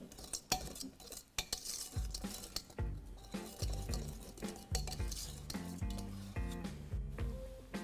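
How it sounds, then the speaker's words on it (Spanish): A spatula scraping the sides of a bowl of chocolate cake batter, repeated short scrapes and soft clinks, close and fairly quiet, with no talking. "Simplemente voy a raspar los bordes para incorporar."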